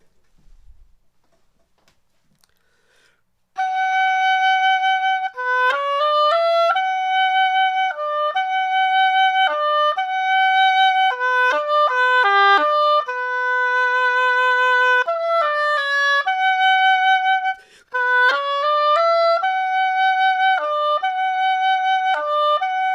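A solo oboe plays the slow, lyrical Swan theme from Tchaikovsky's Swan Lake in sustained, reedy notes, clear and close, with a brief pause near the end before continuing.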